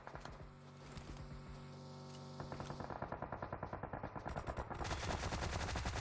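Automatic gunfire in the mobile battle royale PUBG Mobile, first in sparse sharp shots and then a rapid steady burst of close, loud rounds that grows louder near the end, with no talking.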